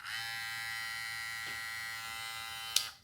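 A Von Da Goat Low Pro hair clipper fitted with a fade blade runs steadily, giving a constant close electric buzz that fades out at the end, with a brief sharp click near the finish and no speech.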